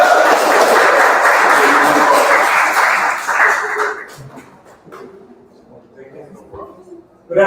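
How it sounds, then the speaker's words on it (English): A graduation ceremony audience applauds the invocation speaker. Loud, dense clapping fills the first few seconds, then fades into scattered claps and murmuring, with a voice starting near the end. "I want y'all to give it up, clap it up for him"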